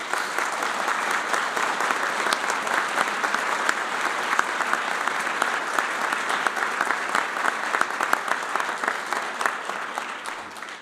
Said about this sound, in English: Please give these dedicated firefighters a round of applause.